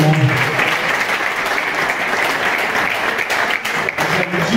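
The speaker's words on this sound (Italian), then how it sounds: "Un applauso a Virgilio Caivano." An audience applauds Virgilio Caivano as he is called up at a football club's inauguration evening, a loud continuous wash of clapping that keeps going without pause and dips only slightly near the end.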